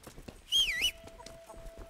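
Horse hooves clip-clop at a steady walking pace in the medieval video game Kingdom Come Deliverance, with a brief, higher-pitched animal call rising over them partway through.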